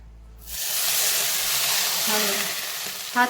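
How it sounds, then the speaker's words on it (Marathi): Hot ghee poured over carrot halwa: after a quiet start, a loud, close burst of frying sizzle and hiss flares up and holds for nearly three seconds, with a short clink at the end. "कडकडीत तूप मी गरम करून घेतलेला आहे आता आपण याच्यावरती घालून घेऊ"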